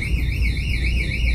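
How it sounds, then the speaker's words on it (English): A store security alarm at Target blares with a steady warbling electronic tone over low background rumble, continuous and fairly loud. "I think someone just set off the alarm."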